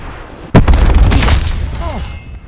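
A rocket explosion in Call of Duty Black Ops 4 lands as a sudden loud boom and then rumbles and crackles away over about two seconds, with a few faint whistling tones near the end.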